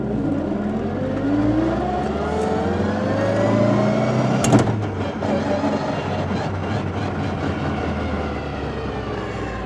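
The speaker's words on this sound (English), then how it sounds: "We're gonna head down to the freeway so I can actually get through all the gears." An NA Mazda Miata fitted with a GearMotive ZF dogbox pulls hard through the gears, the engine note rising and dropping with each quick shift and a sharp clack near the middle, loud and close from inside the car.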